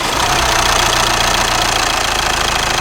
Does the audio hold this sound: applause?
no